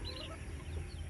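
A naked neck hen brooding on her eggs gives soft, low clucking against a noisy, muffled background, brief and faint.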